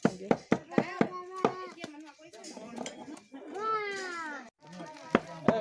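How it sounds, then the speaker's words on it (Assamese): Black pepper is pounded into powder in a village kitchen, giving a run of sharp, steady thuds about every half second. Nearby voices and children's chatter sound over and between the strikes. "এইফালে জালুক গুড়ি কৰি আছে"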